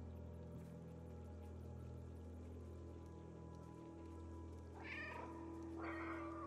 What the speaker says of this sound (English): Oh, I can meow in the load or the cutscenes.